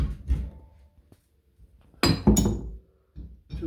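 A wrench knocks and scrapes against a very tight 1.5-inch plumbing fitting under a sink, with a couple of loud metallic clanks and clinks separated by quiet pauses.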